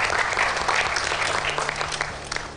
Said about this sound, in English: So a big round of applause for this little baby